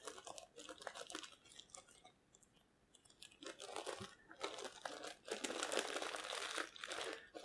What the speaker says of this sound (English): So let's unwrap this thing.